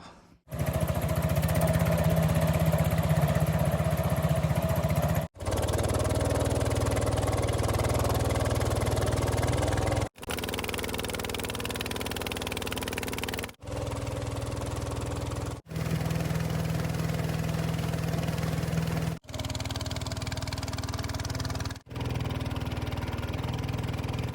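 Small boat engine on a reservoir, a loud steady mid-pitched drone close by, running continuously in segments with brief cuts between them.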